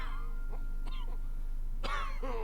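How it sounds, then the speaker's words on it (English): An elderly man coughs indoors, one short cough followed by a longer harsh burst of rough coughing, heard close and fairly faint with no talk. "His cough was especially worse today."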